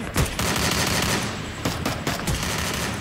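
Gunfire in the video game Free Fire MAX: dense, loud rapid bursts of automatic shots that continue almost without a break, with brief sharp accents between bursts.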